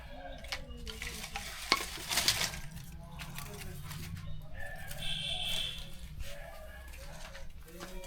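Oil sizzles and crackles in a wok at moderate distance in a village kitchen, with clinks of utensils, faint background chatter and occasional bird calls.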